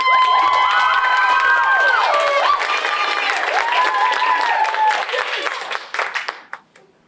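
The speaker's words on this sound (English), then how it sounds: "we're gonna keep that applause going for our next poet" Audience applause and cheering at a high school poetry slam, a loud sustained wash of clapping with high excited shouts and whoops that tapers off over the last two seconds.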